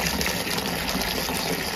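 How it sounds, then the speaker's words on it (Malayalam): Water gushes steadily and loudly into a bucket, a close, continuous rushing pour that holds for the whole stretch and cuts off right at the end. "അപ്പോൾ 1/4 ബക്കറ്റോളം നമ്മൾ വെള്ളം അതിനകത്ത് ഒഴിച്ചിട്ടുണ്ട്."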